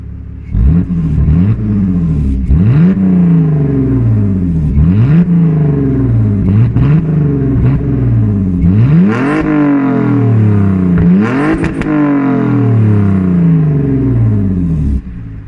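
BMW E46 with a backbox-delete straight-pipe exhaust and a longer ratio diff revving hard: loud, close, repeated rising engine sweeps that climb and drop in quick succession, growing rawer toward the end, with no talk.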